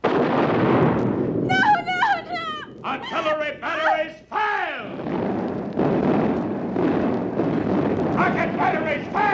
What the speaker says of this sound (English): Artillery batteries, fire!